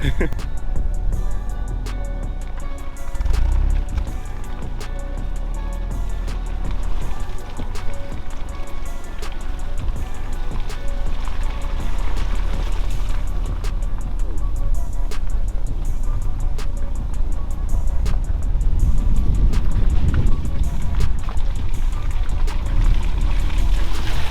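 A BMW 1 Series on the move, picked up by a camera mounted behind it: steady, loud road and engine rumble with wind buffeting that runs unbroken for the whole stretch.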